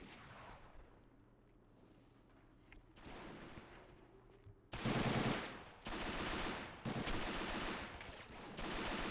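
Sustained bursts of machine-gun and rifle fire in the Men of War WWII strategy game during a commando coastal raid in Norway, starting as muffled distant shooting and then turning into loud, dense, close volleys.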